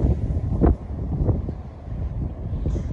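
Strong, cold wind outdoors at a commercial aircraft museum buffets the microphone with a loud, low, continuous rumble and several sharper gusts, with no voices.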